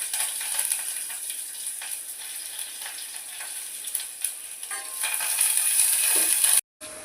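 Garlic and curry leaves sizzling in hot tempering oil for ridge gourd dal, a bright, steady crackle close by with stirring clinks, cutting off briefly near the end.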